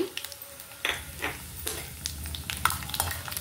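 Urad dal, mustard seeds, cumin and chana dal fry in a pan with a soft sizzle, broken up by repeated scraping and stirring strokes at close range.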